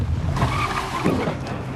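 A car braking hard and skidding to a stop right in front of a person, its tyres scrubbing noisily against the road in one short, close burst.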